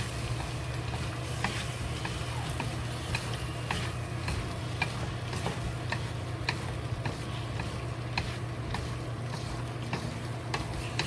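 Pork slices and cucumber are stir-fried with a thickening starch sauce in a pan, giving a soft continuous sizzle broken by regular clinking spatula taps.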